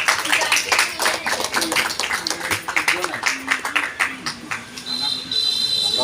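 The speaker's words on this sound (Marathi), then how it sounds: "जोरदार टाळ्या एकदम." A crowd applauds steadily at a birthday felicitation for Anna, with dense overlapping claps running throughout and talking mixed in.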